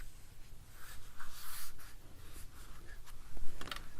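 A pen scratches short marking strokes across paper while a wallet journal is made, a close, quiet scribbling in several bursts with no talk.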